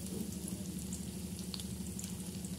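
Boiled young bottle gourd fries in oil with a steady, even sizzle that holds throughout, with no voices.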